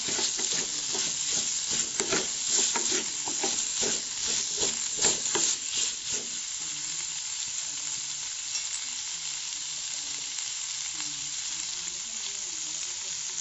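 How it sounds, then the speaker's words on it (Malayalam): Beef fry with curry leaves is stirred in a pan, a loud, steady sizzle and hiss with quick scraping stirs through the first six seconds, then only the continuous frying hiss. "ഇവിടെ പാത്രം ബീഫ് തുറന്നതിന് ശേഷം നമുക്ക് ഇളക്കി കൊടുക്കാം."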